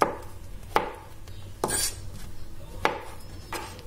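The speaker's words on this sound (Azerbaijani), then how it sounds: "Göbələklər çox da xırda olmadan doğranır." A knife chops mushrooms on a board in about five sharp, separate strokes spaced unevenly, close and fairly quiet.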